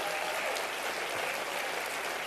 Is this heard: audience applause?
yes